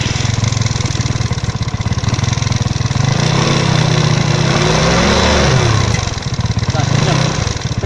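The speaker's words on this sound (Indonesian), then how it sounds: "Oke, nyalain bro motornya." An automatic scooter engine runs loud and close, revving up and easing back in a couple of surges over a steady throbbing idle after a squeaking noise in the rear engine was repaired.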